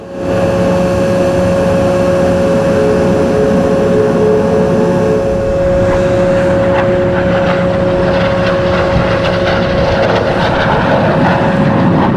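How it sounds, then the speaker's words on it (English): The Al Fursan aerobatic team's jet makes a loud flypast at the Dubai Airshow 2025, a sustained heavy engine roar with a steady whine that swells slightly as the pass continues, with no talking. "Here we see Al Fursan's final iconic pass, which has remained the same with their new jet, the UAE DNA."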